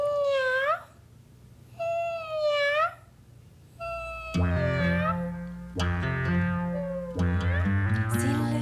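A voice imitates a cat's meow in French, 'miaou', several times, first alone in three drawn-out cries, then over a loud musical backing.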